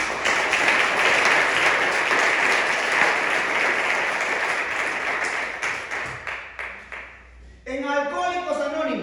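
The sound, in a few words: congregation applause in church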